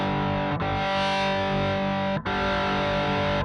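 Electric guitar runs through an Ibanez distortion pedal, loud sustained chords with a thick, chunky, gritty tone. Two brief cuts split the ringing into three held strums, and there is no talking.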